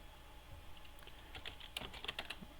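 Computer keyboard typing as an IP address is entered in CIDR notation while configuring trunks on a Cisco switch: a faint, scattered run of soft key clicks with no talk.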